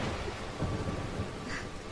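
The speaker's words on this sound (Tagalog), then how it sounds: "Ang lakas ng ulan." Heavy rain pours down with rolling thunder, a dense low rumble swelling under a constant wash of rainfall, loud and close with no voices.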